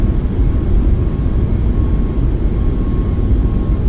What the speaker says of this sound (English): And we'll let the aeroplane roll out.